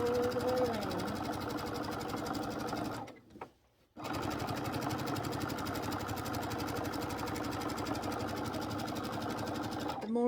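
A sewing machine top stitches around an egg-gathering apron, a steady rapid mechanical hum and patter that stops for about a second near the middle, then resumes and runs on evenly.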